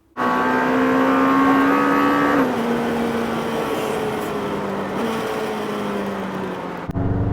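Lamborghini Temerario sports car with over 900 horsepower pulling out onto a Formula 1 race track, its engine droning loud and steady with a rising pitch, then easing off as it shifts, close by with no talk.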